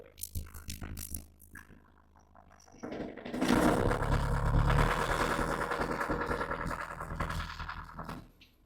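Scout TY404C mini tractor engine running in third gear, a steady loud mechanical drone with rhythmic rattling that builds after a quieter start and holds close throughout.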